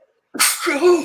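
After a brief silence, a person sneezes once, loudly and close by, a sharp airy burst trailing into a short voiced tail.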